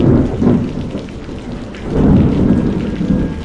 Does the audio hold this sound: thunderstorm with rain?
yes